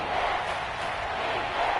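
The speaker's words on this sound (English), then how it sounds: "And this crowd urging on their defense. They're up and making noise." Stadium crowd in a PS4 football video game roaring for the home defense on third down, a dense, sustained wash of cheering and shouting with a voice faintly beneath.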